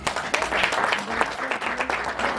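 An audience at a podcast recording gives a round of applause, a busy, fairly close patter of clapping that stays even for a couple of seconds.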